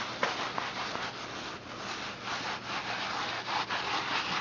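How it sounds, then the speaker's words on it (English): A rag spreads a thin film of cob mix across a dry earthen wall, giving a steady, close, continuous scrubbing rasp with slight surges as the strokes change direction. "Take a little bit of your mix, put it on the rag, and now you're going to rub this on your wall."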